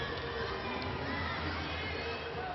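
Crowd cheering at a collegiate women's gymnastics meet between Oklahoma and Denver after a stuck dismount, a steady, dense wash of applause and voices filling the whole arena without a break.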